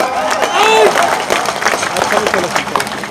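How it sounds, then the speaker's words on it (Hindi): A crowd at a political rally in Kishanganj claps and cheers in a dense, lively roar, with shouting voices and whistle-like calls mixed through the steady applause. "ताली टिका के"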